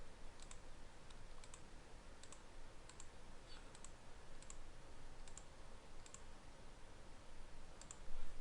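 Repeated mouse clicks at a computer while working in AutoCAD, a dozen or so short, light ticks spaced irregularly over a steady low background hum, close and fairly quiet.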